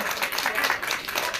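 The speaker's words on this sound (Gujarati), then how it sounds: "આપણે બધા તાળીઓના ગડગડાટથી આ દીકરીને વધાવી લઈએ।" A short, steady burst of audience clapping fills the hall as a speaker is welcomed at a motivational talk.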